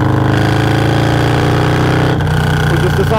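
A motorcycle engine runs steadily at a near, loud idle with a continuous low hum, on an outdoor ride on a cool, breezy day.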